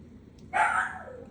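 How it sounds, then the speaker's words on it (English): A dog gives a single loud, nearby bark that tails off into a brief whine, with quiet room tone around it. "You hear my dogs?"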